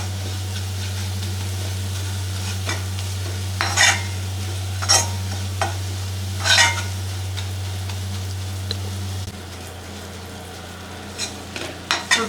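Sweet kolukattai filling with cardamom powder being stirred in a frying pan, the spoon scraping the pan in several distinct strokes over a soft sizzle and a steady low stove hum.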